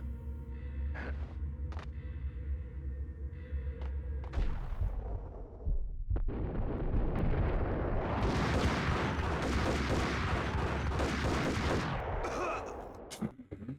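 Dense, loud gunfire in the video game Max Payne. Quieter game sounds come first, then a sustained barrage of overlapping shots runs through the middle and later part of the clip.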